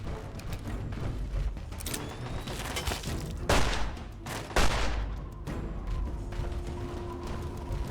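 Repeated gunfire from a video game in Fallout 3/New Vegas, a dense, steady barrage of shots with two louder booming bursts partway through, continuous and close throughout.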